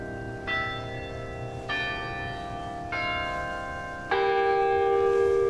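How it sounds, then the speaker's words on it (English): Church bells across the street ring out in slow, separate strokes, each one resonant and lingering, with a steady tone holding underneath toward the end. "Some bells ringing from a church across the street."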